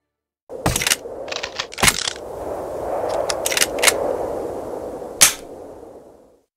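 Carlos fires ricochet shots in the Red Dead Revolver video game: a handful of sharp, cracking gunshots spaced irregularly over a soft rumbling background, with one last crisp report near the end.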